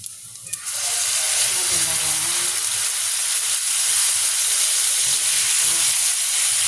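Garlic and onion sauté in a pan in a loud, steady hiss and sizzle that starts within the first second and runs unbroken to the end.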